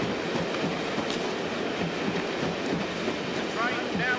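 A train pulls into platform 2 of a station, a London Paddington service stopping at Reading, with a continuous loud rumble and rattle of wheels and carriages close by.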